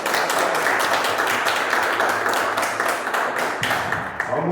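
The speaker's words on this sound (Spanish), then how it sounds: "Lo recibimos con un fuerte aplauso." An audience at a seminar on the study of death breaks into strong applause to welcome a speaker, a loud, sustained wash of many hands clapping that thins slightly toward the end.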